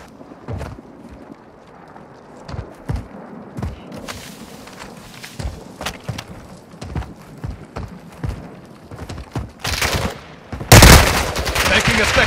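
Gunfire in Call of Duty: Warzone 2.0, a run of sharp shots at varying distance over footsteps and movement, ending in a loud close burst of fire.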